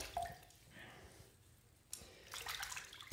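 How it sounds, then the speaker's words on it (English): Water splashed onto a head to rinse it during a head shave, with intermittent close splashes and trickling drips, a brief splash at the start and louder sloshing toward the end, quiet in between. "I'm going to throw a little water up there just to rinse a little bit."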